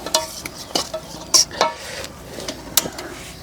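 Mashed tempeh being stir-fried in a pan for sambal tempe kemangi, with sharp scraping and clanking spatula strokes over a faint sizzle, irregular and close.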